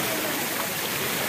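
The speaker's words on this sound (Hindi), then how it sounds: "ये कहाँ से पानी आ रहा है पीछे से?" Water rushes steadily along a rough mountain road, a constant broadband wash with no breaks over the short stretch.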